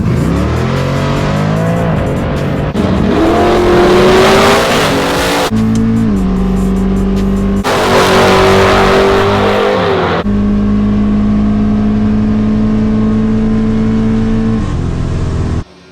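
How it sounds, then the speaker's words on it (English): A Malibu drag car roars through a full quarter-mile pass, its engine loud and close as it climbs through the gears in long rising pulls with brief drops at each shift, heard alone without voices. "Malibu responds with a 1069 at 124 mile an hour quarter-mile pass"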